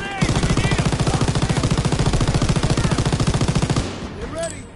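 Rapid machine-gun fire in the World War II shooter Call of Duty WW2: a loud, continuous stream of closely spaced shots lasting several seconds, then dropping away into quieter battle noise.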